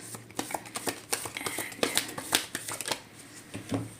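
Tarot cards are shuffled and drawn from a deck in a quick run of soft, crisp flicks and riffles at close range, with light hand handling between them.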